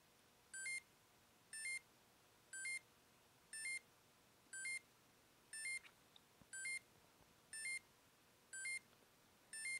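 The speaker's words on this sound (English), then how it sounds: "So let's see if we get any kind of special Popeye music for the alarm, or if it's just generic beeping." A Popeye Panorama Screen Game & Watch alarm sounds generic electronic beeps, about ten short identical bursts at an even pace of roughly one per second, clear over a quiet background.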